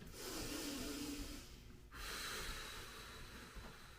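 Slow, controlled breaths during a home workout, quiet and close, with a long drawn breath broken by a sharp pause before the next steady exhale.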